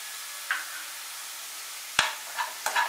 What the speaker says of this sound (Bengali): আদা বাটাটা আমি একটু ভালো করে ফুলকপির সাথে মিশিয়ে এটাও 1 মিনিট মতো নাড়াচাড়া করব।